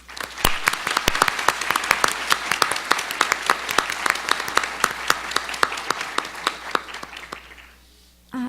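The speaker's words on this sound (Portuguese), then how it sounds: "gostaria de pedir uma salva de palmas para eles" An audience at a panel event claps steadily to welcome three new council members, with dense, sharp individual claps that keep going for several seconds before trailing off near the end.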